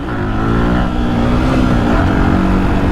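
Stock Yamaha R15 motorcycle on a race track warm-up lap, its engine humming loud and close at steady mid revs with a slight pitch rise.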